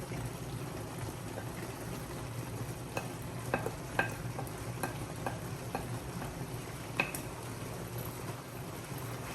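Ground beef browning with brown sugar in a hot pan for beef and broccoli, a steady low sizzle with scattered small clicks and scrapes of a spoon stirring, fairly quiet throughout.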